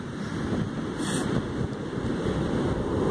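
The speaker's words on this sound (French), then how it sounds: "Les vagues ce matin se font entendre." Atlantic Ocean surf breaking on the shore at Vik, Iceland, on a morning after bad weather: a steady, loud roar of waves with wind buffeting the microphone throughout, no voices.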